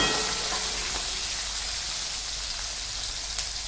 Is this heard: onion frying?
yes